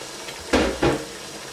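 Two quick clanks of a spoon scraping a metal pot as capsicum and carrots are stirred into masala, set against a low background hiss.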